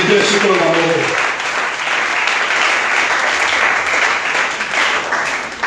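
Congregation at a church service applauding with sustained, even clapping that fills the room, after a voice is briefly heard at the start.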